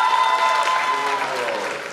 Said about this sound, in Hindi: जोरदार तालियों के साथ हुसैन हैदरी।